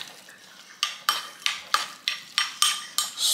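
A spoon stirring oatmeal in a bowl, scraping and clinking against the sides in about eight sharp, evenly spaced strokes, close up and loud, with no voices.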